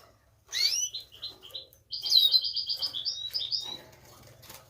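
A goldfinch sings close and clear, bright rapid twittering phrases in two bursts separated by a short pause, with no talk over it.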